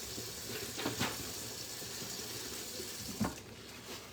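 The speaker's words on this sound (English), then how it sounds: "Let me wash my hands real quick." Running tap water splashes over hands at a sink, a faint, steady hiss of flowing water with a couple of brief louder splashes.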